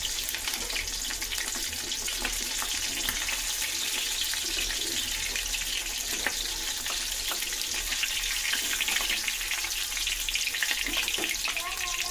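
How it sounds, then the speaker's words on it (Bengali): Fish frying in oil for a spicy shimul tengra fish dish, a dense, bright crackling sizzle that runs steadily and loudly from start to finish. "এবারে আমি বাকি মাছগুলো ভেজে নেব"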